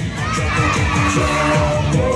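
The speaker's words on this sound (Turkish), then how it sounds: "Böyle yapınca çığlık atıyoruz." Crowd of children at a party in Niksar screams and cheers together, a loud, sustained shout over a thumping dance-music beat.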